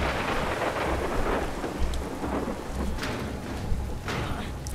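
Thunderstorm in The Last of Us Part II: steady, loud rain pours over a low, rolling rumble of thunder, with sharper crackles breaking through now and then; no one speaks.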